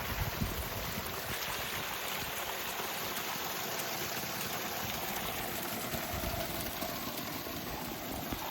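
A stream of water runs over bedrock worn smooth into a funnel, making a constant broadband rush that stays steady and close throughout, with no talking.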